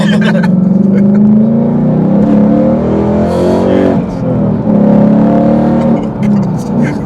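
A Ford Mustang fitted with a straight-through exhaust revs hard up close, a loud, raw engine roar rising and falling through several blips, with people talking in between.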